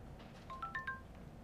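Faint electronic phone call tones from a WWE wrestling video game, a short sequence of a few thin beeping notes rising and stepping over a low background hum.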